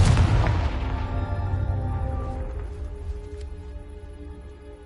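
A Confringo blasting spell in a Hogwarts video game sets off a loud, close explosive boom that hits at once and then rumbles and rings out slowly over several seconds.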